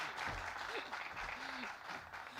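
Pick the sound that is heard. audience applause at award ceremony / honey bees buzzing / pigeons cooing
audience applause at award ceremony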